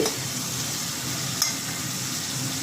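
Hilsa fish frying in oil in a pan, giving a dense, even sizzle that runs continuously and close, with one small tap partway through and no talking.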